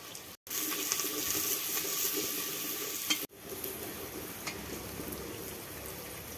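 Onion and green chillies fry in a cup of hot oil with a dense, close crackling sizzle, briefly cutting out twice and occasionally stirred, with no talking.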